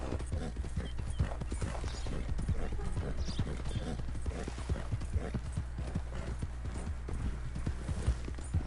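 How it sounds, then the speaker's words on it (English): Horse hooves clip-clopping in Red Dead Redemption 2 as the rider travels, a steady even rhythm of close hoofbeats running the whole time with faint talk in the background. "do tempo que eu tô andando com esse cavalo aqui"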